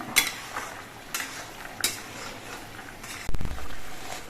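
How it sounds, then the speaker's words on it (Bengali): A spoon stirs ground garam masala into potol kofta curry in a pan, with a few scraping clinks against the metal over a soft simmering hiss, ending in a louder clatter. "গরম মশলা গুঁড়ো দিয়ে নেড়ে চেড়ে মিশিয়ে নিতে হবে"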